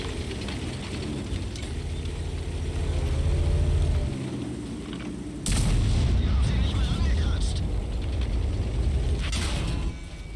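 A tank cannon firing at an AMX tank in a tank battle game, a sudden loud boom over a rumbling engine drone, followed by a second blast and mechanical clatter.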